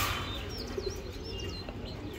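A pair of Giribaz racing pigeons coo softly and steadily in a loft, with faint chirps and other birds in the background and no voices.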